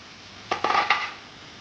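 A metal pot lid is lifted off a pot of cooking mango side dish, giving a few quick clinks and rattles close by, then quiet.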